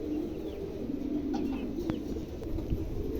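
A newly adult pair of Mundi pigeons coos in a low, steady murmur that runs continuously and fairly faintly, with a few soft flutters and knocks on top.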